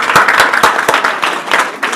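An audience at a school quiz competition breaks into loud, close applause, a dense burst of clapping that stays strong for the whole two seconds.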